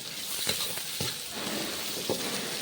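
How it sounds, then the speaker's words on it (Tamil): Onions for Pallipalayam chicken sizzle and fry in a pan, a steady close hiss broken by a few soft stirring knocks. "இப்போ நல்லா வதங்கட்டும்."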